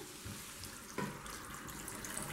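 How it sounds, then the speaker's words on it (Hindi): Water is poured into a pot of black chickpeas (kala chana) seasoned with salt while cooking, a soft, steady trickling splash with a brief clunk partway through, no talk over it. "पानी डालेंगे।"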